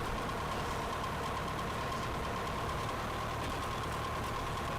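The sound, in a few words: small airplane engine running while taxiing to runway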